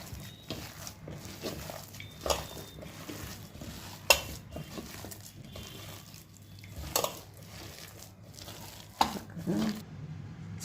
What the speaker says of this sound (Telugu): రుచికి సరిపోయినంత సాల్ట్ ఇలా చక్కగా కలుపుకోండి.